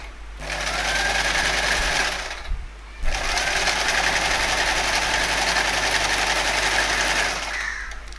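Sewing machine fitted with a ruffler foot stitching gathered frills into fabric: a loud, continuous mechanical whir with a short pause before it resumes, running steadily with no speech.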